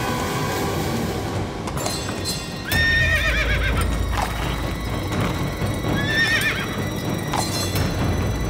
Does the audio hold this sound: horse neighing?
yes